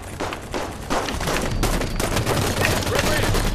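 Sustained hostile gunfire in the Halo 5: Guardians video game, dense rapid bursts and impacts filling the whole stretch at close range, loud and continuous with no pauses.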